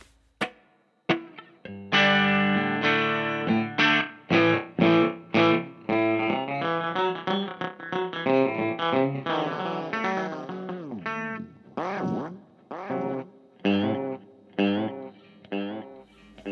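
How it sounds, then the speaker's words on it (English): Distorted electric guitar notes run through a Fender HammerTone Space Delay pedal set to a very short delay time, each note trailed by quick repeating echoes that smear into a dense shimmering wash. "So delay time goes super fast."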